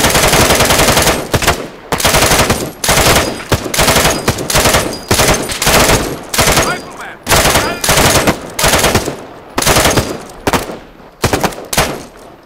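Machine gun in the Arma 3 military game fires in long, loud, rapid bursts separated by short pauses, each burst a dense run of shots that dominates the mix for the whole stretch.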